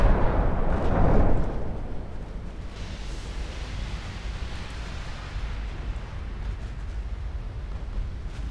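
Heavy naval guns firing in the Ultimate Admiral Dreadnoughts battleship game: a loud, deep boom at the start rolls off into a long, low rumbling wash of noise, with no voices.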